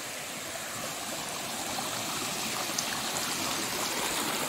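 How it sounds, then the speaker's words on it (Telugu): Water pouring down from rocky hills near Hampi and collecting before flowing on, a steady rushing stream like a small waterfall, continuous and moderately loud with no talking. "వాటర్ అంతా ఇక్కడ స్టోర్ అయ్యి"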